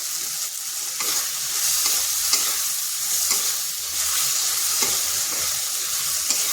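Fried ingredients stirred with a spoonful of tomato sauce in a hot pan, a steady close sizzle broken by regular scraping stir strokes about every second, with no talking.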